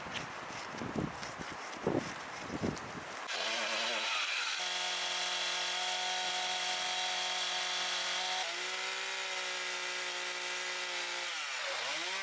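After a few scraping knocks, a chainsaw roars into a sustained high whine, its pitch shifting as it bites through wood during work on an old log house in Finland, and winds down at the end.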